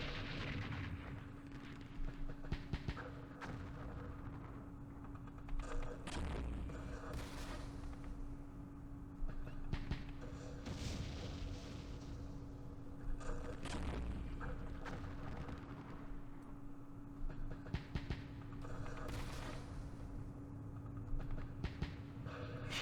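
Artillery fire during the Battle of Hue in the Vietnam war game Campaign Series Vietnam: repeated distant booms and sharp gunfire bursts scattered over a continuous low battlefield rumble, fairly faint throughout.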